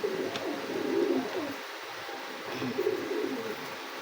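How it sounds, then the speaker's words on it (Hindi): Several low, soft pigeon coos repeat in gentle phrases, close by, from breeding pairs in a coop, with faint background noise and no talking. "कबूतर ना थोड़े क्रीच में है"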